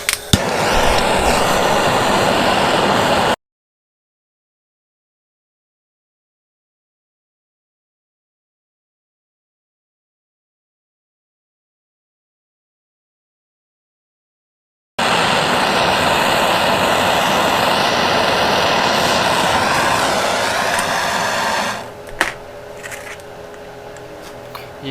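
A torch heats a cracked aluminium-type engine case on a Suzuki TS185 motorcycle, giving a steady, loud broadband roar that cuts out for a long silent stretch, then returns before fading near the end.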